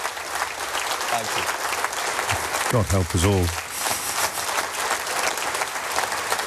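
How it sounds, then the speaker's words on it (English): Warm audience applause welcomes Andy Burnham as he is about to speak, a steady dense wash of clapping filling the room while a voice speaks briefly over it. "A nice warm round of applause for Andy Burnham, who is about to speak."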